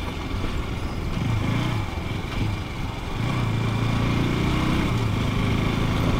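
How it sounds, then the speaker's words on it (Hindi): A KTM RC 200 motorcycle rolls slowly off the throttle, its engine giving a low, steady, close-up burble with faint wind rush, rising slightly in level partway through. "अब जैसे मैंने बाइक छोड़ दी है, बहुत प्यार से अपने आप धीरे धीरे धीरे धीरे करके अच्छे तरीके से चलेगी"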